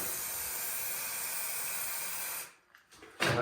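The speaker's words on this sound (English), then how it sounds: "you can use it just as like a wasp spray" An aerosol of insecticide sprays onto cockroaches in an enclosed space, a loud, steady hiss lasting over two seconds, then a brief break and another short burst.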